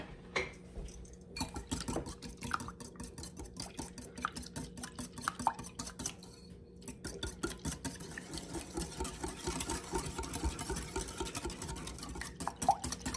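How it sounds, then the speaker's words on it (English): Whisk beating crepe batter in a bowl, quick rhythmic clicking and tapping strokes against the sides, close and fairly quiet, with a brief pause midway before steady whisking resumes. "I'm just going to whisk that together."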